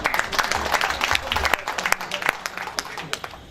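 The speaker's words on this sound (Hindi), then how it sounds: "ताली बजाइए" An audience at a Hindi kavi sammelan poetry reading claps in a loose burst of applause, individual hand claps standing out sharply as the clapping thins and scatters toward the end.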